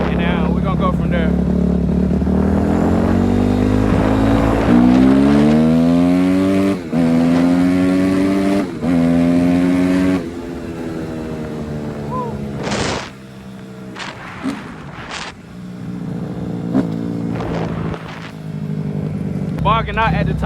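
A Kawasaki KX250F dirt bike engine, with a carburetor fault, runs loud and close while warming up, its pitch rising and falling through revs before settling to a rough, uneven idle, with someone talking at times.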